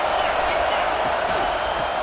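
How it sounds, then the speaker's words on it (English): Football stadium crowd roars loudly and continuously, a dense wash of noise trying to disrupt the offense, with no break across the short stretch. "This crowd trying to make life miserable for this offense."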